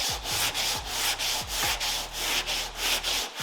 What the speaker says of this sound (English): I'll just sand it down.